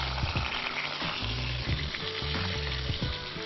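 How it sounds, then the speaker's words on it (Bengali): White mustard seeds tempering in hot oil with bay leaf, green cardamom, cloves and cinnamon, a dense, steady sizzle and spitting crackle heard up close with no voices. "সাদা সর্ষে ফোড়ন।"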